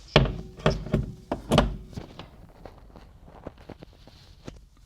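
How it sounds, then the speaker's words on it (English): Rearview mirror on a Ford Transit snapping up into its plastic housing: a few loud close thunks and clicks at the start, then softer scattered handling clicks. "And there you have it, latched right up into place"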